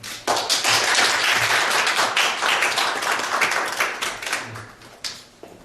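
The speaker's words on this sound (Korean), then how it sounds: "여러분 우리 이주연 박사님을 큰 박수로 모시겠습니다" A seated audience gives a loud round of applause to welcome a doctor to the podium for a talk on smart convergence industries. Dense clapping swells quickly, holds steady and then thins out toward the end.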